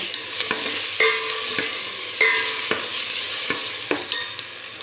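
Washed chana dal stirred and fried in a pan for a snake gourd sambar, a steady close sizzle broken by regular scraping strokes of the spatula, with no voices.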